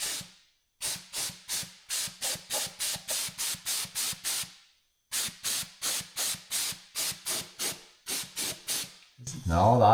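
A pneumatic undercoating spray gun fires in short rhythmic hissing bursts, about twenty in a row with a brief pause midway, ending in a louder sputtering blast.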